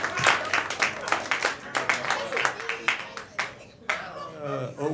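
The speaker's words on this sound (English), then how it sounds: "Get the clap back going for Mike Morrison" An audience at a comedy show claps in quick bursts for comedian Mike Morrison, with a host's voice talking over the scattered clapping before it fades and speech takes over.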